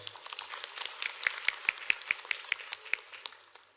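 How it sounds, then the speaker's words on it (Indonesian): A small group claps at a formal inauguration ceremony for South Kalimantan's provincial Posyandu supervisory team, greeting the provincial PKK chair; about a dozen fairly evenly spaced, modest claps ring out, quiet and thin, with no talk over them. "Tepuk tangan untuk beliau"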